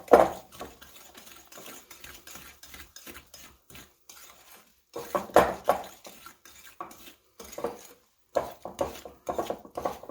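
Thick brownie batter for chocolate-covered cherry brownies being mixed in a bowl, heard as intermittent scraping and soft thumping strokes that come in bursts with short pauses, fairly close and moderately quiet.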